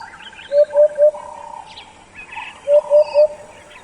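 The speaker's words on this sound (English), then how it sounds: "The brown rockchat is a robust bird." A brown rockchat singing: two bursts of three clear, evenly spaced whistled notes, close and loud, with softer warbling phrases and chirps between them.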